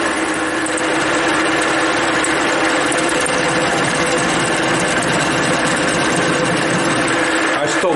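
Milling machine taking a 6 mm deep, 2 mm wide cut, a loud continuous grinding whine with steady vibration and chatter throughout, the machine straining under the load.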